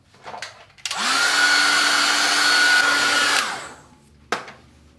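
A hair dryer blows on a watercolour ocean painting, a loud steady whirring roar that starts abruptly, holds for about two and a half seconds and then cuts off, with a brief knock afterward.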